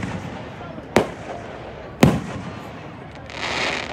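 Fireworks at the Angell Park show burst in two sharp, loud booms about a second apart, followed by a rising crackle, with a voice murmuring faintly in the background.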